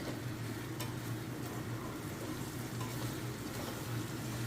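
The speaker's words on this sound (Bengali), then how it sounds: "সেই টমেটোগুলো আমি এর মধ্যে দিয়ে দিলাম দিয়ে আবারও ভালো করে নাড়বো মশলা যতক্ষণ না ভালো কষা হচ্ছে ততক্ষণ নাড়তে থাকবো" Tomatoes and spice masala sizzle steadily in a hot pan on a high gas flame, with soft intermittent stirring scrapes, fairly quiet and close, no voices.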